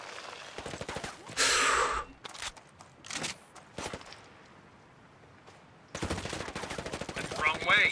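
Gunfire rattles in Ghost Recon Breakpoint, with a loud burst of automatic shots early on, then scattered single shots. A quieter lull follows before a dense, sustained volley of rapid shots closes it out, with occasional player voices.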